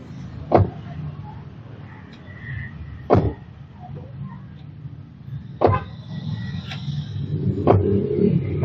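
Four solid car door slams at the roadside, each one sharp and close, cushioned by a newly fitted rubber damper seal, with steady traffic noise behind.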